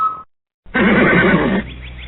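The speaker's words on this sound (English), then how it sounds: "A horse is a horse, of course" A horse whinnies loudly in a single long, wavering neigh, the talking-horse sound from the Mister Ed television show, starting after a brief silence and trailing off into fainter sound.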